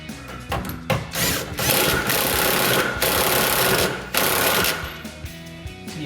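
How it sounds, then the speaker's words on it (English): Impact wrench tightening the 19 mm nut on a 2005-2014 Mustang rear shock, loud rattling hammering bursts repeated several times with short pauses between, close by. "Take your impact. I'm going to tighten it just until I see the rubber start to squeeze, just a little bit."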